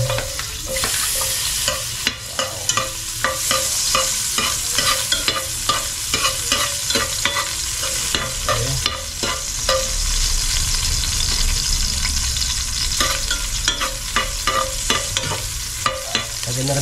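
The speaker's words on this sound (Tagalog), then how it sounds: "Start na tayo sa pagluto. Lagay tayo ng bawang." Garlic frying in a pan and being stirred, a steady close sizzle with frequent scraping and clinking stir strokes throughout.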